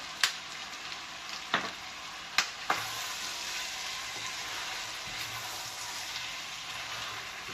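Tomatoes fry in a pan for judias con cerdo (beans with pork), making a soft continuous sizzle with a few sharp pops in the first few seconds before settling into an even hiss.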